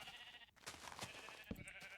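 Sheep in the Minecraft video game, with a faint bleating amid game effects and background noise, a few short bursts over two seconds.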